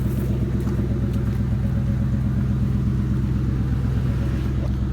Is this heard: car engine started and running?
yes